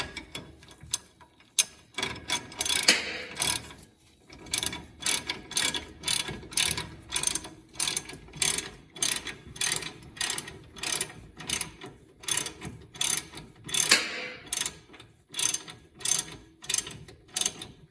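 Steady rapid clicking of a socket ratchet tightening a rear sway bar bolt on an MK7.5 Volkswagen Golf R, close and loud, in repeated strokes with short pauses between bursts.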